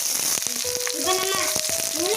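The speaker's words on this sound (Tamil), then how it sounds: "நல்லா பொன்னிறமாக வதங்கட்டும்" Radish chutney ingredients sauté in hot oil until golden, a close, steady sizzle and crackle that runs the whole time with faint clinks of stirring mixed in.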